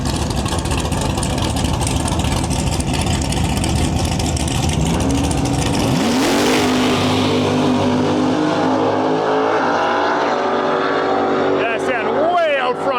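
A supercharged F-150 and an S10 pickup drag race, with loud engine roar and a rising whine as the trucks launch and pull away. A commentator's voice runs over the noise.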